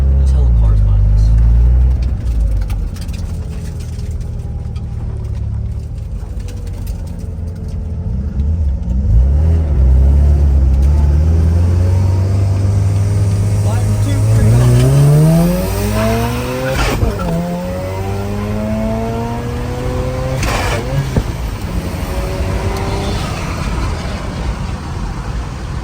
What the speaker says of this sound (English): so we're gonna do a roll race this time because the Rx7 traction-wise, got it.